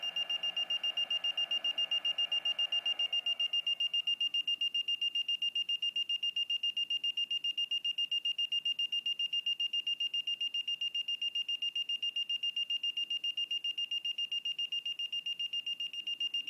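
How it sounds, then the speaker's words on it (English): A LiPo battery voltage alarm beeps in a fast, regular stream of high-pitched electronic tones, steady and unbroken from start to finish with no talk. "it's probably going to quit beeping now"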